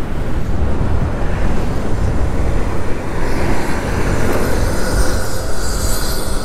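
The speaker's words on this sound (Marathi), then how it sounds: "आता भाटे बीचला पोचलो होतो आपण." Loud ocean surf and gusting wind at Bhate beach on the Konkan coast, a dense, continuous roar with heavy wind buffeting on the microphone throughout.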